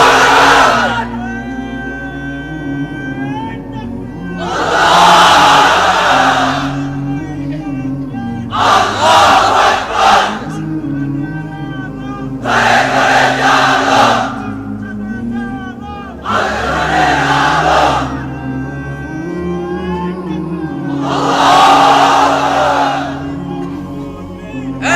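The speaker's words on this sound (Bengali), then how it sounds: "এবার অবিবাহিতরা দাও লিল্লাহি তাকবীর।" A crowd of unmarried men at a Bengali Islamic sermon gathering roars takbir in about five loud, massed bursts. A voice is heard alone in the pauses between the shouts.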